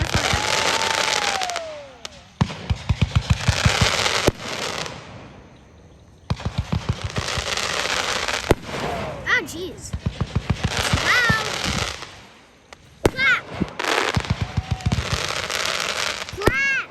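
Fourth of July fireworks bursting outdoors in repeated volleys of crackling, popping blasts with quiet gaps between, plus rising whistles, while people talk and react nearby.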